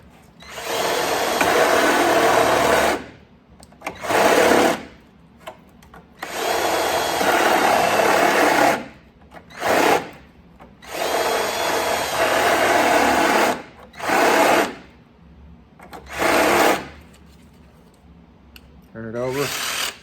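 A power drill bores 11/32-inch weld-through holes in loud, close bursts of whining high-speed drilling. Several bursts of a few seconds each are broken by short quiet gaps.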